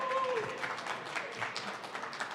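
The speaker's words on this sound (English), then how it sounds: "Please give a round of applause." Audience applause after a speaker introduction at a Web3 talk, a dense steady wash of clapping with a brief tonal whistle-like sound at the start, fairly close and continuous throughout.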